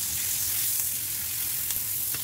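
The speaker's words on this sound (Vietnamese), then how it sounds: "mình sẽ đảo, mình sẽ lật đều cái miếng bistec cho nó chiên đều với cái bơ cho nó thơm" Beef steak fries in butter with garlic in a pan, a loud steady crackling sizzle with a few brief pops and spatters throughout.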